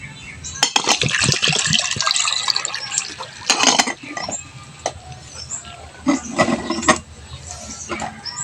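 Broth is poured into a blender in a home kitchen, making an irregular liquid splashing and gurgling up close, with handling knocks and clatter in between.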